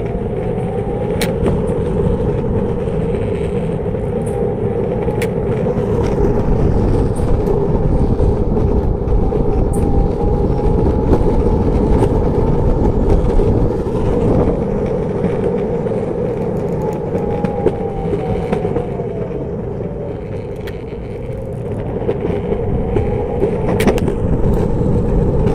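A WOWGO 2S electric skateboard rolls over a bumpy, rough road at night, a loud continuous rumble and rattle from the wheels with a faint motor whine rising and falling, steady throughout with no talk.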